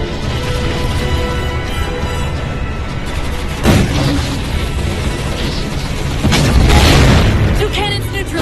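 Heavy booming cannon explosions in Halo 4 hit amid continuous loud rumbling and battle noise, with two especially strong blasts standing out close by.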